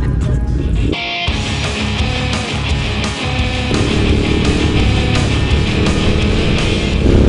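Ducati Monster motorcycle riding laps on the Mandalika circuit, a loud continuous engine roar with rising and falling revs, close and steady throughout with a brief dip near the start.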